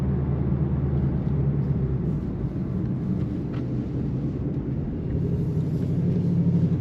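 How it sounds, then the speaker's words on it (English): A 2012 Ford Mustang GT Roushcharged idles with a deep, steady exhaust rumble from the back, continuous and fairly loud with no talking. "Really nice rumble coming out the back"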